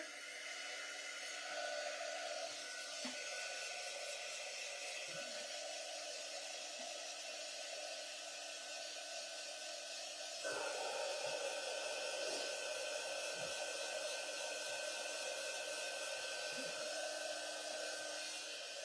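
A hair dryer blows steadily on wet paint on a craft truck cutout, a continuous close-up whooshing hum that jumps slightly louder about halfway through and keeps going without a break.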